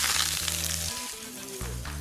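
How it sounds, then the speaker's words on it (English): Red onion and sweet and sour peppers sauté in olive oil over high heat, giving a loud, steady hiss and sizzle that runs through the whole moment with no talk. "I'm going to saute them, which is just the chef's term for shallow frying on a high heat for maximum taste."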